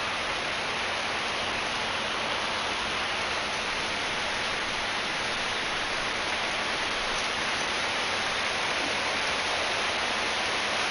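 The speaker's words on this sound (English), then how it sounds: "You might be able to hear the rain, though." Steady rain falls outside a front door, a dense, even hiss of drops on surfaces that continues unbroken and fairly loud throughout, with no voices or thunder.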